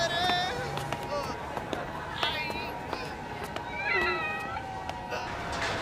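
A cat meows several times in the anime Chainsaw Man, with short rising calls spread across the scene over a busy background of noise and voices.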